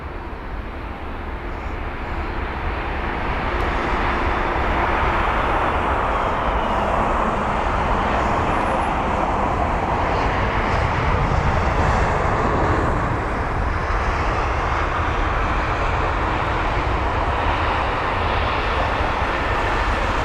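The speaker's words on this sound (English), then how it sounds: "Up next is going to be an A321neo with the reg Golf November Echo Oscar Sierra, or GNEOS. And it is the arrival from Munich" An Airbus A321neo arriving at London Heathrow from Munich gives a loud, sustained engine roar that swells in the first couple of seconds and then holds steady and broad throughout, with no talk.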